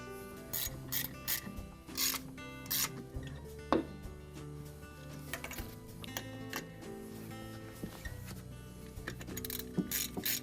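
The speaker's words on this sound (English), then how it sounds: "we can go ahead and tighten them up" Screws being tightened by hand on a Whirlpool refrigerator condenser fan motor, heard as soft intermittent rubbing and ratcheting clicks against a steady low hum.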